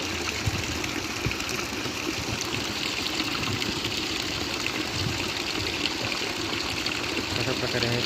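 Water gushes steadily out of a hand pump on its own, a continuous splashing, rushing flow close by with constant loudness. Someone talks over it throughout.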